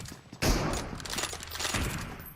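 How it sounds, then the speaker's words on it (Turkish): Rapid gunfire bursts from PUBG Mobile gameplay, a dense loud volley starting abruptly and continuing with crackling shots for a couple of seconds, with no talking. "Ya AFK'yken niye vuruyorsunuz abi?"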